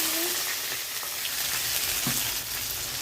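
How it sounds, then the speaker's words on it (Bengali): Whole garam masala, cumin seeds, bay leaf and dried red chillies sizzle in hot oil for a Bengali soya bean curry, giving a steady, close crackling hiss with a few sharper pops and no voices. "গরম মশলা, গোটা জিরে, তেজপাতা, শুকনো লঙ্কা ফোড়ন দেব।"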